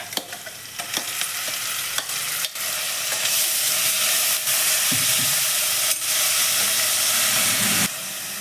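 Sliced onions, green chillies and ground masala fry in a pan for mutton biryani, a loud continuous sizzle and hiss close by, broken by sharp spoon scrapes and clicks while stirring, with no talk.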